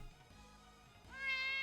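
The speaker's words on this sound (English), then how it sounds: "Little meows" A cat gives a few short, high meows close by, the last one louder and brighter, with no one talking over it.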